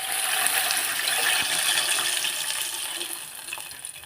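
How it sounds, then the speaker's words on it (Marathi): Continuous broad rushing of milk pouring into a pot, steady and close, fading slightly toward the end. "आता इथे लगेच दूध ॲड करून घेणार"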